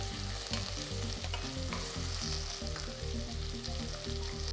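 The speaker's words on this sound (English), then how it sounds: "Add the chopped potatoes along with the onions and saute." Chopped potatoes and onions sauté in a hot pan for a Chettinad onion curry, giving a loud, steady sizzle with frequent stirring and scraping throughout, no voices.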